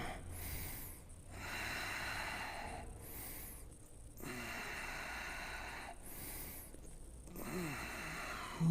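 Loud, slow breathing during a yoga pose in a strong vinyasa class: long hissing inhales and exhales repeat about every three seconds, close and breathy, with no talking over them.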